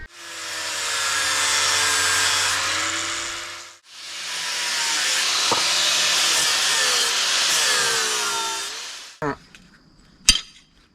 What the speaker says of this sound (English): I'm just going to take the grinder and clean them up a little bit